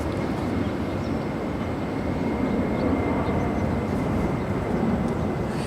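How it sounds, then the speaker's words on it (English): An Atlas Air Boeing 747-400 freighter departing Los Angeles International Airport from the south side, a steady, broad jet engine roar heard from a distance, continuous and unbroken with no voices. "It's a plain Jane 747-400 freighter departing there on the south side."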